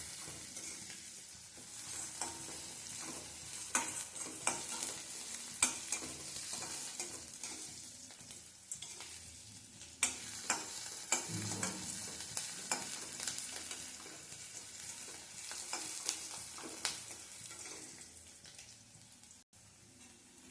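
Onions stirred and sautéing in a pan, a steady sizzle with intermittent scraping and stirring clatter, no talk over it.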